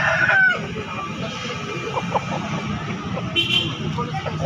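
A young rooster crows briefly at a busy chicken market in Makassar, with crowd chatter, clucking and passing traffic continuing underneath.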